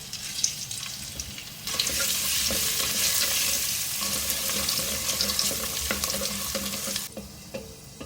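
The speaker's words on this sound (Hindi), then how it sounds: "गरम मसाला और अदरक को मैंने फ्राई कर लिया ऑयल के साथ" Garam masala and ginger frying in oil for a beef korma, a quiet pan that bursts into a loud, hissing sizzle for several seconds with stirring scrapes, then drops back down, no talk.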